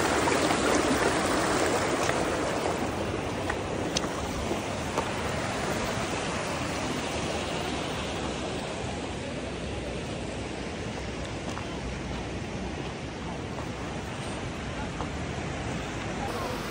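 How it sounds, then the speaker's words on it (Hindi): The Neelam river rushes through mountain terrain, a loud, continuous broadband roar of flowing water heard close up, steady throughout with slight swells in intensity. "तो भाई अब मैं आपको दिखाता हूँ क्लोज़अप दरियाए नीलम का, ये देखें भाई।"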